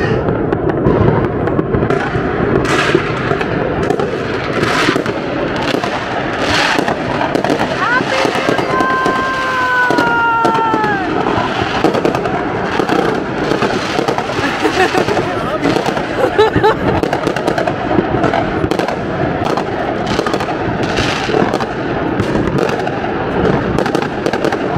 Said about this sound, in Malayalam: കിടലായിട്ട് പടക്കം പൊട്ടുന്നുണ്ട്.